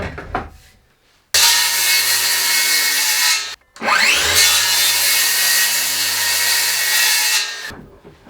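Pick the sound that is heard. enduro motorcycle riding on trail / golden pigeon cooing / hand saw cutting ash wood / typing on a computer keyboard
hand saw cutting ash wood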